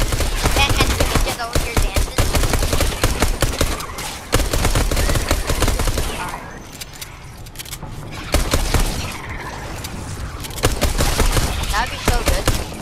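A minigun fires in the Fortnite video game, dense loud rapid bursts of gunfire that ease off briefly in the middle before resuming at full intensity.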